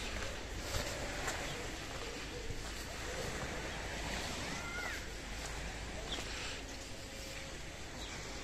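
Waves washing onto the beach at Cala Gran, Mallorca, a continuous soft surf rush with wind noise, moderately near and fairly faint, with no clear talk.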